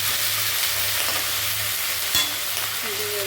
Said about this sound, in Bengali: পেঁয়াজটা একটু হালকা ভেজে নিতে হবে।